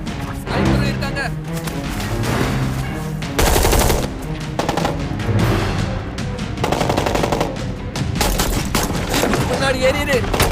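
Bursts of movie gunfire from shooters and snipers crackle in dense, rapid volleys with sharp single shots between, loud and close over a chaotic action scene.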